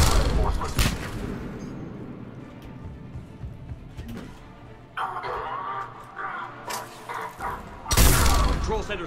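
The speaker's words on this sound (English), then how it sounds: "and y'all are gonna get a frag grenade" Gunfire and grenade blasts from the video game Mass Effect 3, with dense rattling shots and heavy thumping explosions, loud and continuous, with a big burst near the end and game dialogue mixed in.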